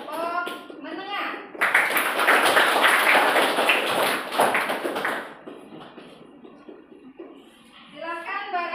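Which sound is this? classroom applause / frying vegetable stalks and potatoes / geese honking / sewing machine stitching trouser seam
classroom applause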